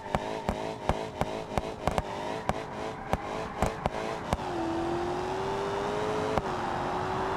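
A 557-horsepower car with stability control switched off launches in a BeamNG driving game during a long-jump contest. Sharp rhythmic clicks punctuate rising engine revs, then one smooth, steady engine tone climbs steadily as it accelerates.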